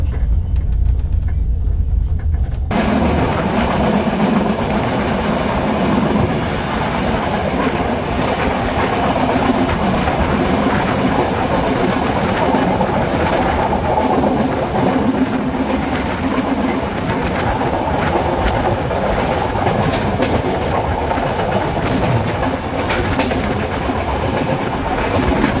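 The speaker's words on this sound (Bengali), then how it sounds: "ট্রেনটি প্রবেশ করলো যশোর জংশন রেলওয়ে স্টেশনে" The Sagardari Express intercity train, running from Rajshahi to Khulna, rolls along the line after a brief quiet start, with a loud continuous rumble and clickety-clack of wheels over rail joints.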